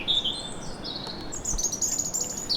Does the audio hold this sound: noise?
no